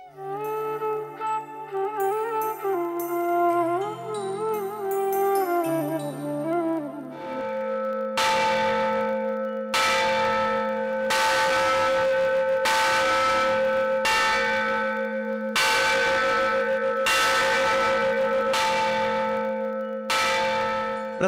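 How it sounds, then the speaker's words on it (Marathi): A huge bell hangs at the northern Ghati gate of the Mahalakshmi temple. After several seconds of melodic tones, it rings with about nine loud, evenly spaced strikes, each clang leaving a long ringing decay. "प्रत्येक पूजा आणि आरतीच्या वेळी या घंटेचा निनाद केला जातो"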